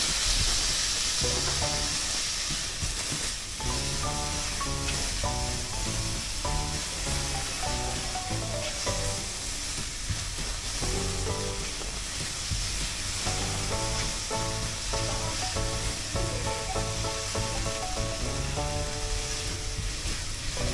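Tomatoes go into a pan of sautéed vegetables, and a steady, close sizzle of frying runs for about twenty seconds beneath continuous background music.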